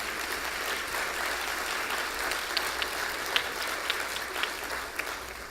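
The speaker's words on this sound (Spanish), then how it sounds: "denles un aplauso" Sustained audience applause at a panel dialogue session, a steady dense wash of many hands clapping with a few sharper individual claps standing out, moderately loud throughout.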